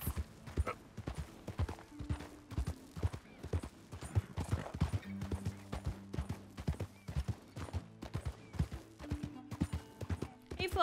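Horse-drawn carts in the Western video game Red Dead Redemption 2, hooves clip-clopping in a steady uneven rhythm throughout, with wheels and harness noise nearby and a faint occasional voice.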